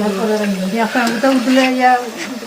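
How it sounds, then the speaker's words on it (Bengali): Eggs sizzle in a pan on a clay stove on a Sylhet village morning, next to ginger pitha cooking; a soft, steady frying hiss sits under louder voices talking nearby. "আর পাশের চুলা ডিম ভাজি করতেছে"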